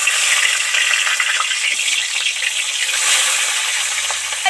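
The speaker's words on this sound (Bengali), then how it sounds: "তেল গরম হয়ে গেছে, এবার একটা একটা চিংড়ি মাছ এর মধ্যে উঠিয়ে দেব।" Prawns sizzling in hot oil in a wok, a steady bright crackling hiss with small pops throughout, close and loud, with no one speaking.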